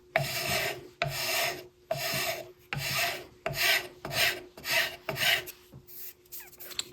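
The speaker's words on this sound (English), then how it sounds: "I can use this fairly fine half-round file to get rid of the rasp marks" A fairly fine half-round file works over a wooden axe handle made from rived lumber, removing rasp marks. About eight regular, close rasping strokes follow one another, and the last few are lighter and quicker.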